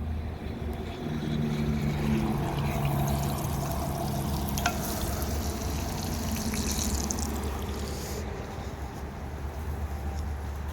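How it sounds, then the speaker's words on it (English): Garlic sizzles in hot bacon grease in a pan outdoors, a steady frying hiss and crackle with some stirring scrapes, close and continuous with no talking. "I like to sizzle up the garlic first."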